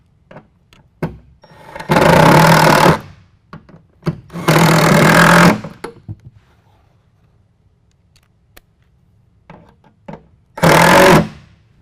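A power tool tightens bolts on a Husky Liners UltraFiber full truck bed liner in three loud whirring bursts of about a second each. Faint clicks and handling noises fall between the bursts.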